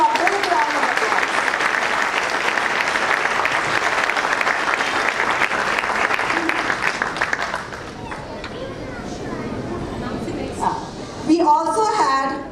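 Loud audience applause for students at a school musical performance of the Ramayana, sustained for several seconds before fading into scattered claps and murmuring, with a voice speaking near the end.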